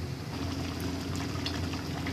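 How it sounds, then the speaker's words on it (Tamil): A pot of Tamil fish curry (meen kulambu) with coconut bubbles steadily at a rolling boil, with soft continuous gurgling and popping heard up close and alone. "இப்போ இது கொதிச்சிருச்சு"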